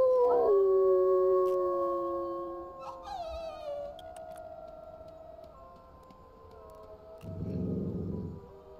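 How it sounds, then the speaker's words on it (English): Several long, overlapping wolf howls in a video game, rising and sliding in pitch, fairly loud, with a brief rough rumble near the end. "You're very insistent everyone howls, Fallen Rain."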